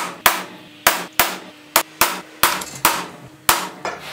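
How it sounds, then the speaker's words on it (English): Sharp metallic taps of a spring-loaded center punch on metal, about nine separate strikes at an uneven pace, each ringing briefly, close and loud with no speech. "This is a spring-loaded center punch."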